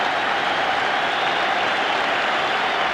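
A large football stadium crowd at a 1986 World Cup qualifier between Ireland and the Soviet Union gives a steady, broad roar of applause and cheering for a player leaving the field, continuous and loud with no pauses.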